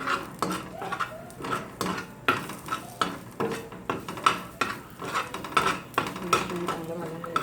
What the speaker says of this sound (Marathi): यामध्येच आलं लसूण टाकायचं आहे.